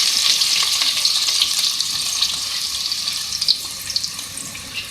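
Two medium onions frying in oil for a beef and capsicum dish, a steady bright sizzle with faint stirring clicks near the end, close and without talk.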